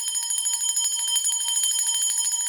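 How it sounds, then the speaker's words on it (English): A bell rung in rapid repeated strikes, producing a bright, sustained metallic ring with steady shimmering overtones, close and loud with no voices. "So I'm ringing the bell"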